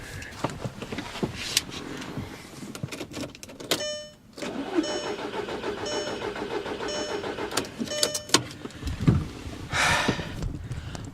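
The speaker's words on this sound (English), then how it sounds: "I know you guys are just dying to hear a cold startup" A sports car with a suspected bad fuel pump is cold-started, the starter cranking before the engine catches into a steady, close, loud idle that holds for several seconds, with a few short revs near the end.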